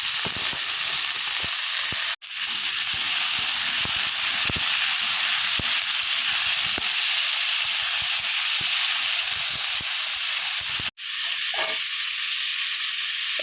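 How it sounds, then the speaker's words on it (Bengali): Cut potatoes and eggplant fry together in a pan with dried chillies, a loud steady sizzle and hiss filling the whole stretch, broken by two brief drops in sound. "এরপরে কেটে রাখা আলু আর বেগুন একসঙ্গে দিয়ে দিলাম।"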